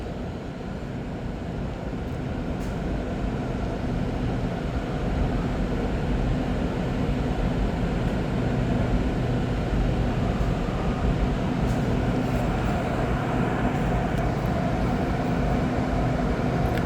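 Inside a REM light rail train gliding between Central and Brossard stations on a clear morning, a steady low hum and rolling rumble continue throughout with a soft airy hiss and a few faint high tones.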